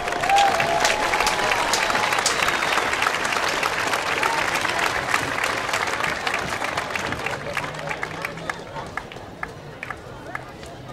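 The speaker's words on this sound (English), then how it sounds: "Let's give all of the musicians a round of applause tonight." A crowd applauds student musicians at a marching band festival in Bethel Park, dense clapping with some cheering that holds steady and slowly thins toward the end.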